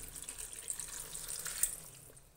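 Tap water runs steadily into a container of green peppers dressed with vinegar and olive oil, a continuous close splashing rush without speech.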